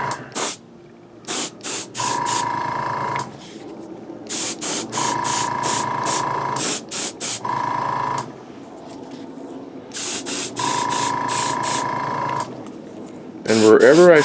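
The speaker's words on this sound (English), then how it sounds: "I might just spray it from a distance" Aerosol spray paint hisses in repeated bursts of a few seconds each, separated by short pauses, while detailing a five-foot Millennium Falcon replica model; the bursts sound close and fairly loud with a voice talking intermittently between them.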